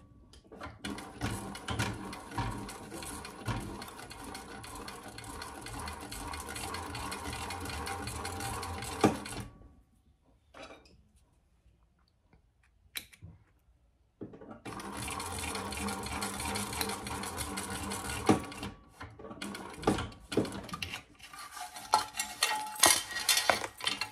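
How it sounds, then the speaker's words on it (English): Sewing machine running in long steady bursts while topstitching a waist pack at 1/8 inch, with a few seconds' pause midway before the stitching resumes; no talking. "And now we're just gonna do a top stitch 1/8 inch."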